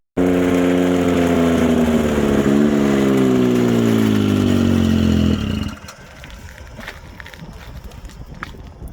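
A snowmobile engine on a frozen lake roars loudly and steadily for about five seconds, its pitch sliding lower as it passes, then drops off abruptly to a quieter, rough background rumble.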